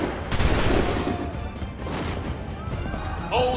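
A musket volley crashes out in Assassin's Creed 3, a dense ragged burst of many shots firing almost together at the start, followed by scattered rumbling and shouted voices.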